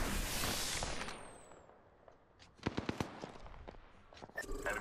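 Gunfire in Apex Legends: a quick cluster of sharp shots mid-clip, moderately loud, with fainter scattered pops later amid game ambience.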